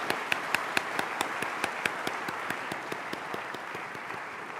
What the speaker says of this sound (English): Shall we applaud all those?